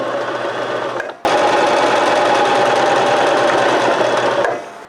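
A sewing machine runs a continuous straight stitch, steady and close, briefly pausing after the first second before resuming and then winding down at the end, with no voices.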